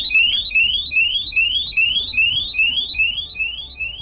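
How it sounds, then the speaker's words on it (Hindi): A cupboard alarm, set off by breaking the cupboard's lock, sounds a rapid repeating electronic chirp, about two rising tones per second, loud and steady with nothing else over it. "अलमारी का ताला तोड़ते ही अलार्म बज उठता है।"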